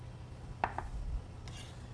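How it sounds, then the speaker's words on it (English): Vegetables are chopped with a knife on a cutting board in a home kitchen, two or three quick sharp taps followed by a softer scrape, close and fairly quiet. "And then we're chopping."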